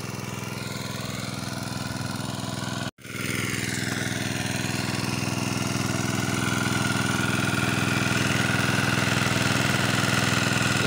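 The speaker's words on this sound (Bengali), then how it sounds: "তো আমার ইঞ্জিনটা হচ্ছে গ্যাস চালিত ইঞ্জিন" A gas-powered irrigation pump engine run off a small gas cylinder drones steadily and loudly nearby, with one sharp momentary dropout before the steady running resumes.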